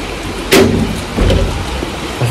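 Cold rain falls steadily at an outdoor wedding gathering, a soft continuous wash of drops with a couple of louder splashes or gusts partway through.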